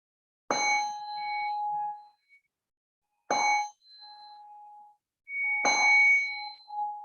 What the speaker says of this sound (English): I'm just going to bring a little chime in to shift the energy